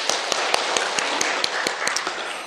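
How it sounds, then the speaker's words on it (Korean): A church congregation claps for the Lord during a New Year Sunday worship service, dense steady applause with crisp individual hand claps popping out above the crowd in an irregular rhythm. "주님께 영광의 박수를 돌리십시다"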